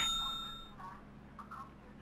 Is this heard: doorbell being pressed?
yes